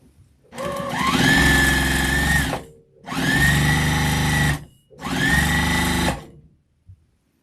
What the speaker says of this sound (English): I know my machine's loud.